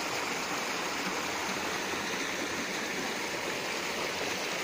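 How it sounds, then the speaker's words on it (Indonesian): A river coming down the slope of Mount Lawu rushes over many rocks, giving a steady, even broadband wash of flowing water with no breaks. "Aliran sungai dari lereng Gunung Lawu masih banyak bebatuan, full batu ini"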